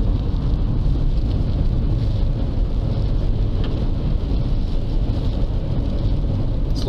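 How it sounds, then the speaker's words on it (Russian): Heavy, steady rain roars in a dense, unbroken wash of noise, loud and close, with a low rumble underneath throughout. "а дождик сильнее пошел"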